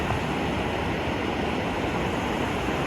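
Glacier-fed river water on the Carbon River trail rushes beneath a log bridge, a dense, steady roar of flowing water, close and unbroken for the whole stretch.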